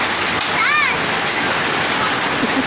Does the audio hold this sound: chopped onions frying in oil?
no